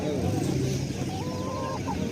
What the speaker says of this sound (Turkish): Bir tavuk bu.